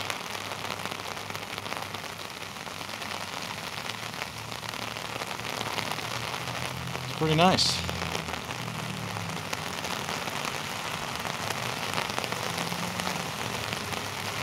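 Heavy rain pours steadily on a city street in Norwich, Connecticut, a dense constant hiss throughout, with one brief louder swell midway and a short spoken remark under the downpour.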